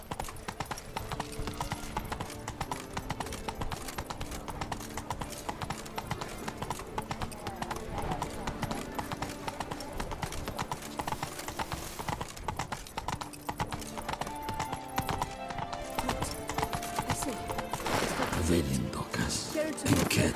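Horse galloping in The Witcher 3, rapid continuous hoofbeats clattering throughout at a steady pace, with a voice speaking over part of it and a brief louder rustle near the end.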